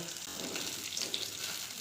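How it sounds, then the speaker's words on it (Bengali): A fish head sizzling in oil, a steady bubbling crackle with light popping throughout, fairly close and alone. "মাথা ভাজা হয়ে গেছে আমি তুলে নেব"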